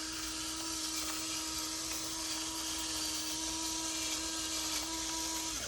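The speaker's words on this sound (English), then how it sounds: "that sound that you're hearing is the grinder grinding my salt up for me" An electric salt grinder grinds salt beside a food processor of onion and lime juice for salsa verde, giving a steady, close motorized whine with a constant tone that runs without a break for several seconds, no talking over it.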